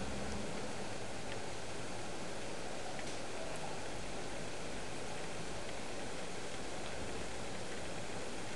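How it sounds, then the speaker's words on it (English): A flooded creek roars in Tremont, Pennsylvania, its dense, steady rushing wash filling the scene without a break, with no voices over it. "The creek is roaring."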